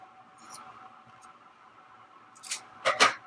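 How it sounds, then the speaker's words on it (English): Scissors snip through the edge of a small color applicator in a planner session, a couple of quick, crisp cuts near the end, close and fairly quiet after a soft rustle. "cut off this edge from the color I used last time"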